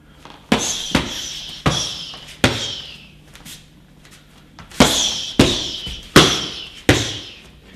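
Uppercut punches striking a training pad in martial arts practice, eight sharp smacking impacts in two quick groups of four, each a crisp near slap with a short decay, separated by a quiet gap.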